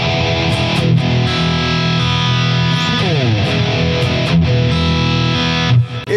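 Distorted electric guitar notes ringing out with a long, washy reverb tail, sustained chords blending and slowly decaying, no voices.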